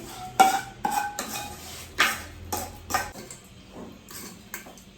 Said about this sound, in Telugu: ఇప్పుడు నేను ఫ్రై చేసుకున్నదంతా ఈ రైస్లో వేసేస్తున్నాను